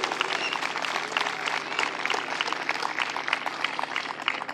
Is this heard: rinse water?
no